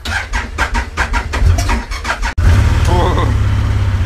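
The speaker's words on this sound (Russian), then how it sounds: "Между прочим, холодный пуск. Ну-ка, заведется этот." Vehicle engine cold start: a starter cranks in a rapid, rhythmic churn for about two seconds, then the engine catches and settles into a loud, steady idle close by, with a brief voice over it.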